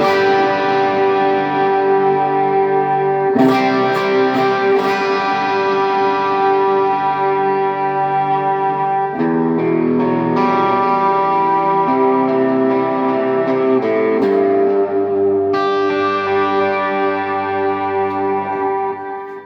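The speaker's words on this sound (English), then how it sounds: "Reverb and delay, and this is what we get." Sustained electric guitar chords through a Marshall JTM Studio amplifier with reverb and delay, each chord ringing out and echoing in long washing tails, several changes across the passage, loud with no talk.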